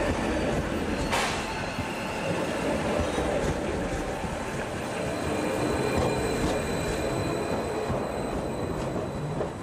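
A Westfalenbahn train rumbles steadily past at close range through Emden Außenhafen station, its wheels clattering with a brief high squeal, the loud continuous roar filling the whole stretch.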